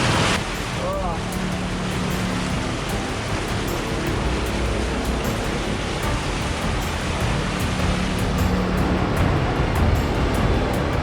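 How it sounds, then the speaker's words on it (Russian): Roaring rush of an underground waterfall on the Poltva river beneath Lviv, a steady broadband wash of falling water echoing in a tunnel, loud and constant throughout with no pauses. "Спустя где-то полчаса мы наконец-то добрались до водопада, который считается крайней точкой, куда добирались диггеры."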